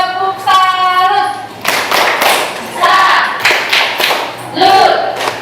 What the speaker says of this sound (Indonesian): Oke, kita beri tepuk salut.